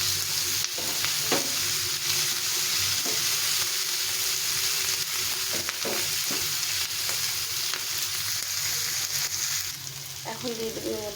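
Food fries in a pan beside a pot of boiling pasta, a steady, loud sizzle throughout with occasional stirring clicks, thickening into busier clatter near the end.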